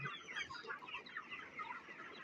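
Desi chickens cluck steadily and busily at close range, a dense overlapping chatter of hens feeding on starter feed in hot weather, with no talking.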